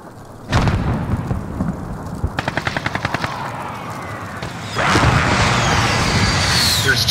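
Automatic gunfire in Call of Duty: Modern Warfare: a rapid, evenly spaced burst of shots rattles over a dense, rumbling battle din, followed by a louder roaring wash of explosions and noise.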